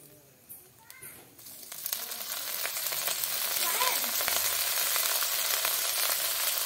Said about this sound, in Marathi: आपण आता ह्याच्यामध्ये ओतणार आहोत थोडंसं तेल